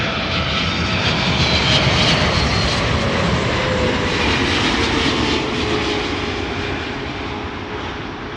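A KLM Boeing 777-300 widebody jet roars loudly with a steady, broadband engine rush that swells slightly and then eases as it passes nearby, with no voices.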